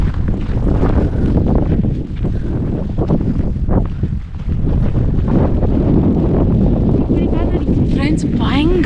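Strong wind during a winter snowstorm roars steadily across the microphone with a close, buffeting rush, and people talk over it throughout.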